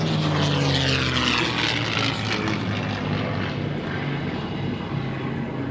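A propeller aircraft flies past at the Flying Legends airshow at Duxford, a loud, continuous engine drone with a shifting pitch that sweeps across as it passes, fading slightly toward the end.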